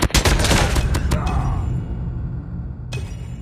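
Automated sentry gun firing in a Call of Duty multiplayer match: a loud, rapid burst of gunshots at the start, followed by fading echoes and a lower rumble, with one more sharp crack near the end.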